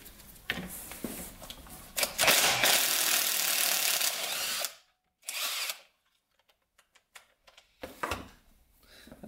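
Wrench work loosening a rusty 12 mm kick lever bolt on a Honda XR100 dirt bike, with a loud sustained burst of ratcheting clicks, then shorter metallic turns and taps separated by pauses.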